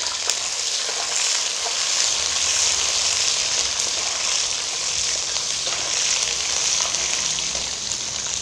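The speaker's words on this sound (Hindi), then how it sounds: "मैं तड़का लगाने लगी" Steady, dense sizzling of spices tempering in hot oil for a curry, loud and close, with a continuous crackle that never lets up.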